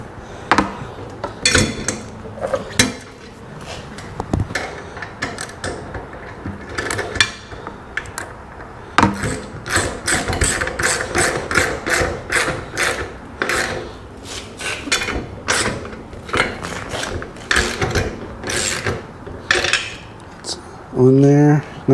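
Metal clinking and scraping as a lock washer and 3/4-inch nut are threaded onto a bolt on a trailer spare tire mount, with irregular close taps and rattles throughout and a burst of rapid ratcheting at the end.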